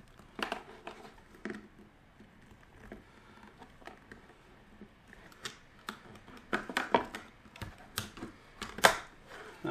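Plastic battery compartment dividers being snapped and broken out of a Minnow Bubble Box aerator, giving irregular sharp cracks and clicks at close range, sparse at first and denser toward the end.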